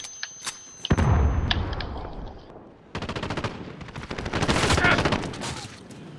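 Rapid automatic gunfire and bursts from a Call of Duty: Modern Warfare multiplayer match, loud and close, with a thump and a short pause before heavy sustained firing resumes.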